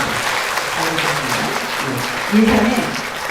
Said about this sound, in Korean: 박수로 축복합니다